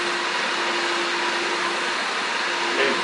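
A shop vac fitted with a 14-inch-wide power head nozzle runs continuously, a loud, steady, close whooshing roar with a faint whine and a slight swell near the end, alone without speech.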